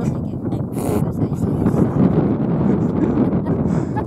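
Wind buffets the microphone with a constant low rumbling roar and some clatter; voices may be faintly mixed in.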